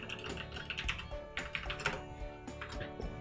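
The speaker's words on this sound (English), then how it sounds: "I'm now typing." Fast, steady clicking of keys on a computer keyboard, close and fairly loud in a continuous stream of typing with short uneven bursts and no speech.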